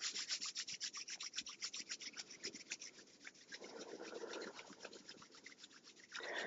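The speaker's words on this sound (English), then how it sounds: "I want you to warm up your hands." Two hands rub together vigorously to warm up before a meditation practice, a quick, rhythmic dry swishing that sounds close and soft, with slower rubbing toward the end.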